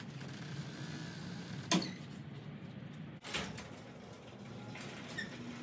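Someone works a freshly lubricated garage door, producing faint scrapes and sliding noises with a few sharp knocks and squeaks in a quiet room.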